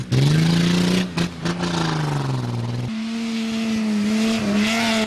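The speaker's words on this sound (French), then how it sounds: "Le Congolais Paris Yangombe sur Nissan Patrol et Théo Kibongé dans sa Nissan hybride ne se sont pas fait des cadeaux." Rally cars racing, a Nissan Patrol and a Nissan hybrid, with a loud engine drone that rises and falls as one car accelerates past, then shifts to a steadier lower roar.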